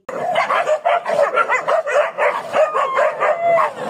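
Several dogs barking and yipping in quick repeated bursts, fairly close and loud, with some howling and whimpering mixed into the rhythmic chorus.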